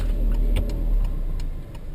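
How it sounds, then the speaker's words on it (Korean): A car braking hard from about 60 km/h during a sudden-acceleration detection test, heard as a loud steady low engine and road rumble with faint clicking ticks over it and no talk. "제가 시속 60km 정도에서 급제동을 하겠습니다."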